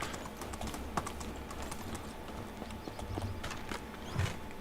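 Horse hooves clopping at a quick, regular pace in the medieval survival game Medieval Dynasty, mixed with sharp clicks of keyboard typing throughout and a soft thud near the end.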